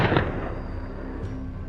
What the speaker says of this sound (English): The relentless gunfire echoed through the forest